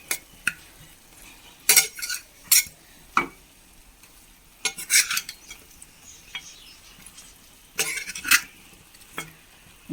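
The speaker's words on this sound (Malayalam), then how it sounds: "അധികം പൊടിയാണ്ട് ഇളക്കി മിക്സ് ചെയ്ത് കൊടുക്കാം." Fried chicken pieces are stirred into biryani gravy in a pot, with a spoon giving several sharp scrapes and clinks in irregular bursts over a soft background sizzle, close by with quiet gaps between strokes.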